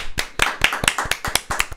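Sharp hand claps repeat in a quick, steady rhythm, about four per second, close and fairly loud.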